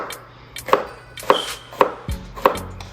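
A kitchen knife chops bell peppers into small squares on a cutting board, with five crisp, evenly spaced knife strikes close by and no talking.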